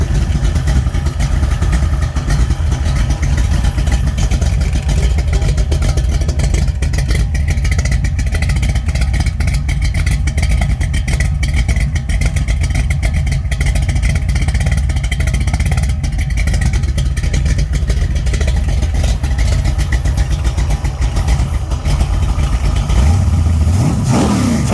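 A stroked small-block Mopar Scat 408 V8 with Speedmaster CNC-ported heads and a hydraulic roller cam runs steadily nearby, a loud continuous rumble with busy ticking from somewhat noisy rockers, alone without talk.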